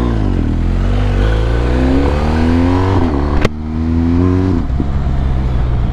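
A motorcycle engine runs loud and close during an endurance ride, revving up and down in repeated rising sweeps with a brief sharp clack midway, the suspension reportedly dropping on its own as it moves.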